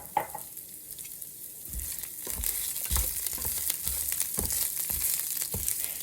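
Rice fries in a pan as the base for red rice, a steady crackling sizzle with scattered pops and stirring scrapes throughout, close and moderately loud.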